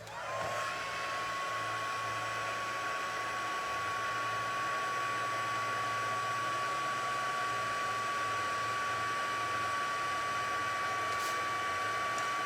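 A heat embossing tool blows hot air steadily to melt white embossing powder on a birthday card, a continuous close whir with a faint tone throughout.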